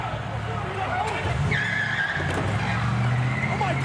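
A commandeered truck skids during a WWE SmackDown wrestling segment, with loud engine noise and squealing tires under excited shouting voices throughout.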